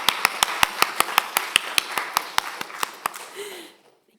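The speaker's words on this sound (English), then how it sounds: "let's do a round of applause" Conference audience applause sounds as a thin, evenly paced run of about seventeen distinct claps that fade out and end in silence near the close.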